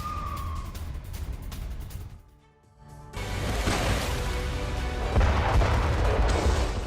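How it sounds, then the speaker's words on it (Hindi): Heavy shelling of Kharkiv by the Russian army, a dense roar of blasts and rumbling booms that swells after a brief lull and then holds loud and continuous, with no voices. "खार्किव में लगातार शेलिंग करके कोशिश की जा रही है कि उस पर कब्जा किया जा सके"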